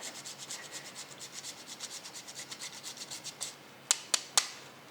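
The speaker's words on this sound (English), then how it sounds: "a good grating of parmesan all over the top" Parmesan cheese is grated over pasta in a quiet, even series of soft rasping strokes, close by, ending with a few sharper taps.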